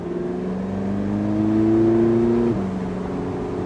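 A Porsche 918 Spyder's naturally aspirated V8 hybrid engine drones loud and close from inside the cabin, its pitch climbing steadily under acceleration before a gear change drops it and it pulls again.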